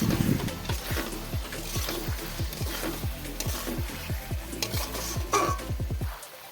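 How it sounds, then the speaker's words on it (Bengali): A spoon stirs fried eggs into masala in a pan with a quick, regular rhythm of scraping strokes over a low sizzle, close and moderately loud, with no one talking. "এরপর আবারও একবার সব কিছু বেশ ভালো করে মিক্স করে নিচ্ছি মশলার সাথে"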